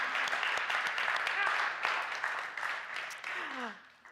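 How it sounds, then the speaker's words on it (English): A church congregation applauds its Leadership Council, a steady round of moderate clapping that begins to thin out near the end. "would you please stand so that we can just offer you another round of applause"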